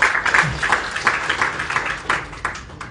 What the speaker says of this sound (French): Des applaudissements pour notre République.